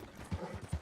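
Horse hooves clip-clop in Red Dead Redemption 2, two distinct low thuds about 0.4 seconds apart, moderately close over a soft ambient bed.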